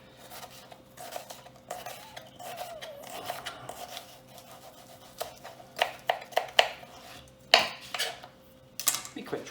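A kitchen knife slices and chops an onion on a cutting board for cock-a-leekie soup, giving irregular close taps and scrapes that bunch into quicker knocks toward the end.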